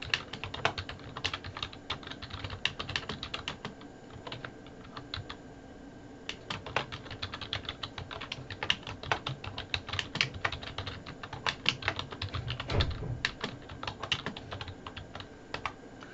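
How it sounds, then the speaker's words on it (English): Steady typing on a computer keyboard, bursts of rapid close-up key clicks with short pauses throughout, no voices. "And I'm typing."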